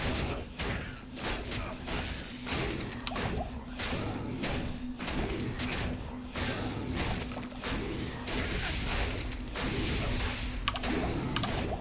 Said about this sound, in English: Little explosions from these fallen that keep getting resurrected